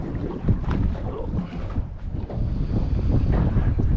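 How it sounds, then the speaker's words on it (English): Wind gusts over open water at sea from a fishing boat, with whitecaps starting to form, making a steady roaring rumble with microphone buffeting and a faint wash of waves underneath. "This wind is just starting to come up, a few little white caps"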